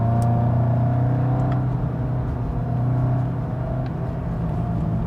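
VW Golf GTI TCR engine running steadily, a strong low drone with a smooth revving hum through gear changes, heard from inside the car, no talk.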